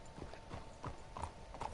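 Horse hooves clip-clop at an easy walking pace in Red Dead Redemption 2, a steady run of soft, moderately distant hoofbeats over a faint background hum.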